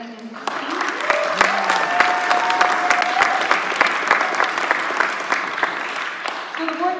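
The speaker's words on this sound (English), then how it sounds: "Round of applause for Brandon and his team." A crowd at a Pride awards gala gives a sustained round of applause. Thick clapping runs throughout, with scattered sharp claps near the listener and voices calling out over it.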